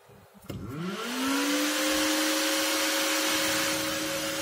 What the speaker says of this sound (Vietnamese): Tiếng quạt máy chạy rất mạnh nha các bạn.